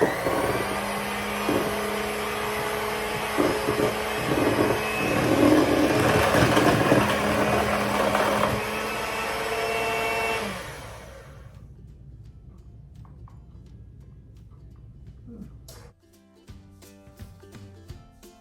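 Electric hand mixer beating cake batter with a cup of milk for a butter pecan box cake, a loud steady motor whir lasting about ten seconds, then cutting off to quiet kitchen clatter.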